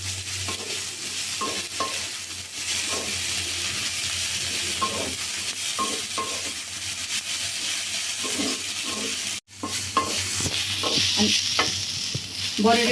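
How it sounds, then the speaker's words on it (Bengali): Boiled yardlong beans fry in a pan with a steady close sizzle and hiss, broken by intermittent scraping stirs and a brief drop near the middle. "সিদ্ধ করা বরবটিগুলো আমি ছেড়ে দিলাম এর ভিতরে দিয়ে কিছুক্ষণ ভেজে নিব"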